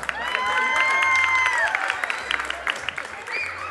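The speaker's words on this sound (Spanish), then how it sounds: "A ver, fuerte el aplauso." Applause and cheering from guests at a quinceañera surprise dance, mixed with whoops and voices, briefly swelling and then scattering into uneven claps.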